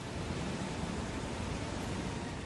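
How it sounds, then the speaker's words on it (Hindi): Floodwater on the Yamuna river at Yamunotri, swollen by heavy rain, rushes in a continuous broadband roar that stays even and steady throughout, with no voices. "जब यमुनोत्री में बारिश की वजह से यमुना नदी का जलस्तर अचानक बढ़ने लगा"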